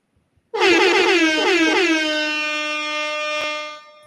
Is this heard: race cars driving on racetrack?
no